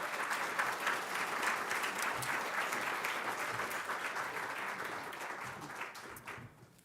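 A conference audience at a closing ceremony claps steadily for the Capture the Flag team, a dense, even wash of applause that holds for several seconds and then thins out toward the end.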